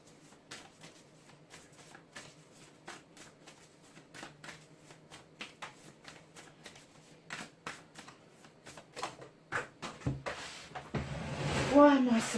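Tarot cards shuffled by hand at close range, a series of soft riffling flutters and taps repeating steadily, with a louder burst of riffling near the end and a voice speaking briefly.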